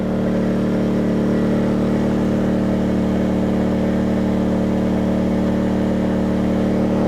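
An Atima inverter generator runs on its high setting, giving a steady, close, loud engine hum with strong tonal droning that holds even and unbroken throughout, with no voices.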